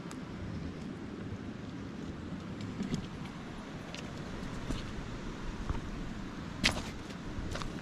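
Steady rain falls outdoors during a rockhounding outing, a dense continuous hiss with occasional louder drip or tap accents, no talking.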